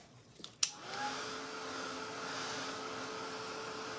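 A hair dryer clicks on and runs with a steady, close whooshing roar to dry fresh paint on a Christmas tree painting, the motor hum holding even and unbroken with no voices.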